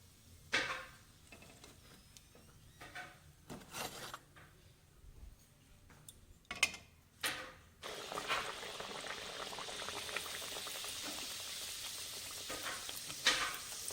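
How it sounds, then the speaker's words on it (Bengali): Green pea kachori puff up in hot oil in a kadai. Scattered handling clatters come first, then a loud, continuous bubbling sizzle takes over for the last several seconds. "দেখো আমি কচুরি ফুলাচ্ছি কি সুন্দর"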